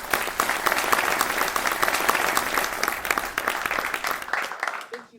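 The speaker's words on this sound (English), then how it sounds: "add applause, please." Applause added as a sound effect on a podcast: dense, steady clapping and cheering from a crowd, loud and continuous for about four seconds before tapering off abruptly into silence.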